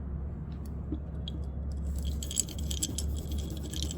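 Brass and bronze metal scrubbers are handled up close, giving light, bright jingling and rattling that picks up after a quiet start, soft and irregular.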